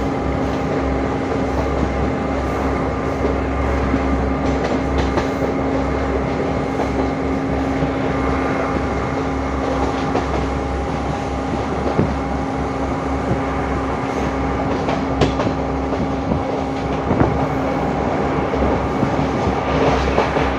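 A train passes on a railway near Kandy, Sri Lanka, as a steady, loud, continuous rumble with a constant mechanical hum running unbroken throughout, with no voices.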